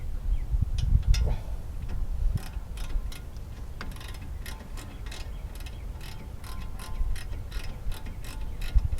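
A ratchet clicks as it tightens a brake caliper bolt on a Chevy Cruze during a brake replacement. The rapid, fairly close ticks come in uneven runs over low background rumble.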